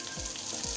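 Fish frying in a pan gives a steady, close hiss of sizzling oil for just under a second, with no one talking.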